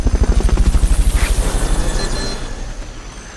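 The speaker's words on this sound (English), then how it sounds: "Fulton recovery subject confirmed onboard helicopter." A helicopter from a video game arrives for a Fulton recovery, its rotor thumping loud and close in fast, even beats that soften and blur into a fading roar.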